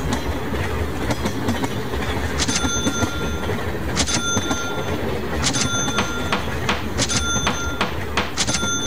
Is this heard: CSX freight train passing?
yes